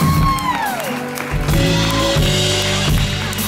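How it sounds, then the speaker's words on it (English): Audience at a live session in a Zurich club cheering and applauding a band introduction, with whoops and shouts over a sustained musical backing, loud and close throughout. "Big round of applause."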